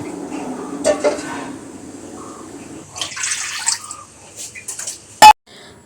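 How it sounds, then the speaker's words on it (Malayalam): Half a cup of water goes into a pan of cooked spice masala for mango pickle, with close metallic clinks of cookware, a brief splash and a sharp ring near the end. "നേരത്തെ മസാലക്കൂട്ട് പാകം ചെയ്ത പാനിലോട്ട് ഒരു അര കപ്പ് വെള്ളം ഒഴിച്ച്"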